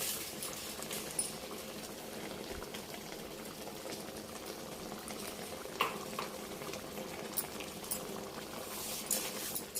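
Tomato pieces for tomato pickle cook in a pan, giving a soft, steady bubbling and fizzing with occasional small pops, faint and close, with no talking.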